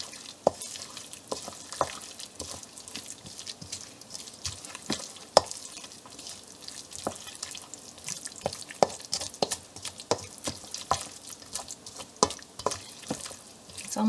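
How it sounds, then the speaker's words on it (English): Grated zucchini and sour cream being gently stirred into a soft batter for Hungarian fried zucchini, a steady run of wet squelching and scraping with irregular clicks of the utensil against the bowl, close and fairly quiet, no voices. "I'm going to gently mix this together until it's got sort of like a soft dough-like consistency to it"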